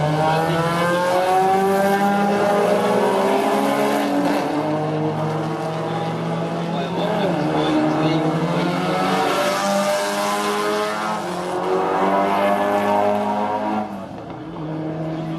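Race car circulating on track at the Adelaide Motorsport Festival, a loud, steady engine drone with rising and falling harmonic pitch as it works through gears and corners, continuous throughout before easing slightly at the end.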